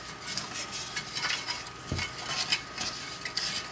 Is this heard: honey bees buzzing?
no